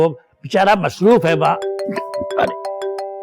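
A phone rings repeatedly in a home during a domestic drama scene, its steady electronic tones cutting in after someone speaks and continuing in a clear repeating pattern.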